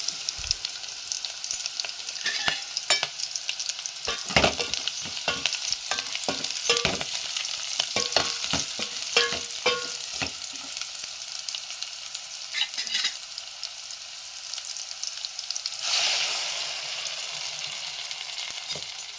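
Loud, close sizzling of a freshly ground masala paste frying in a pan, with frequent scraping and stirring clicks, fading to a steadier hiss near the end.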